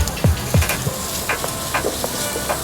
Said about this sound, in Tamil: இஞ்சி பூண்டு பேஸ்ட் போட்டுட்டு அந்த ரா ஃப்ளேவர் போகிற வர லைட்டாக மிக்ஸ் பண்ணிக்கிடுங்க